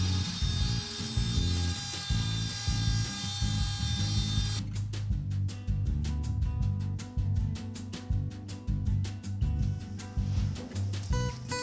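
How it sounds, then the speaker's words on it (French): A router fitted with a 6 mm straight bit and a parallel fence cuts a groove into the wood of a baby cradle's drawer. Its motor holds a steady, loud high whine throughout, with rapid irregular ticking cutter chatter joining after about five seconds. "avec une fraise droite de 6 mm et la défonceuse équipée du guide parallèle, je fraise la rainure"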